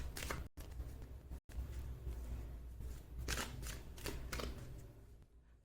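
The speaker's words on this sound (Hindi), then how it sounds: "मैं कार्ड्स आपके सामने ही शफल करूंगी" A deck of tarot cards is shuffled by hand in quiet, crisp bursts of riffling and sliding, close but soft, with no voices.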